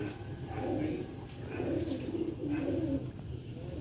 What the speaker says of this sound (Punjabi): ਸਿਆਲਕੋਟੀ ਵੱਡੇ ਲੈਵਲ ਦੇ ਛੱਤ ਵਾਲੇ ਕਬੂਤਰ